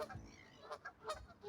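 Geese-like birds honk outdoors in a run of repeated nasal calls, fairly soft and somewhat distant, with no talking over them.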